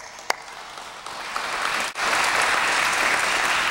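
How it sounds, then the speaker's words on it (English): An audience at an education town hall in Houston, Texas breaks into applause, starting with a single clap, then building into dense, sustained clapping that fills the room at close range. "And they deserve your applause."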